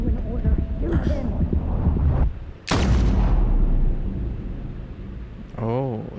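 A gunshot in the video game Death Stranding, a loud booming blast that cuts through heavy rumbling battle noise with a strained voice nearby, then a long decaying tail.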